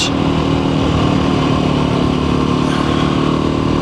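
A Voge 300 Rally motorcycle riding fast over compacted dry dirt at about 60 km/h, with a loud, steady engine drone and heavy wind rush throughout.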